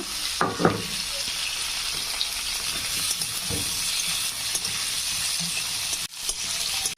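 Potatoes fry in a pan with a continuous loud sizzle, with a few clinks and scrapes of stirring.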